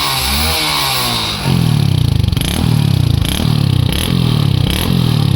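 A Hero Splendor BS7 motorcycle engine fitted with a BS6 silencer starts and then revs repeatedly. Loud, close exhaust firing thumps under several rising blips of throttle, with no talking.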